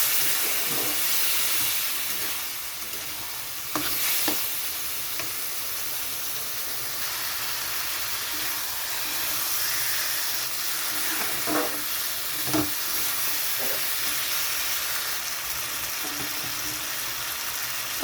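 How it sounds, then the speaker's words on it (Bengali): Spice paste sizzling and hissing in a pan with mutton fat, a continuous frying hiss with occasional soft pops and spits, and no speech. "এখানে অল্প পরিমাণে জল দিয়ে দিচ্ছি মশলাটা কষানোর জন্য।"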